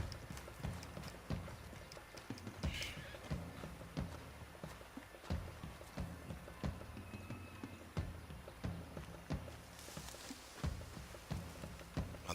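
Horse hooves clip-clop in a steady, close walking rhythm throughout, with a brief whinny-like call, in the Red Dead Redemption 2 video game.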